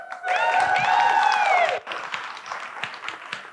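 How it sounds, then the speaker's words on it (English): Brief applause and clapping from an audience at an International Women's Day soirée panel discussion, filling the room for under two seconds before fading into murmuring crowd noise. "can we clap it up for filling the gaps?"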